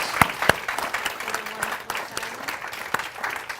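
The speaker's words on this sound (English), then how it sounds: "So an applause to our panelists" An audience at a policy panel on women's economic empowerment applauds the panelists, steady crowd clapping with a few sharp close claps, continuing alone without speech.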